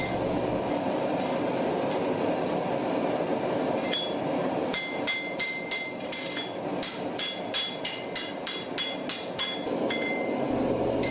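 A steel katana bar is hammered on a large homemade anvil: after a steady background hum, a run of about a dozen sharp, ringing metallic blows comes at an even rhythm, close and clear.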